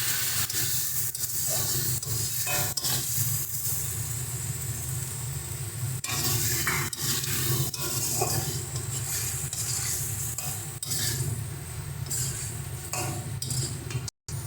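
Rohu fish is stirred into tomato masala in a frying pan, giving a continuous sizzle with soft clinks and scrapes of a spatula throughout, steady and close.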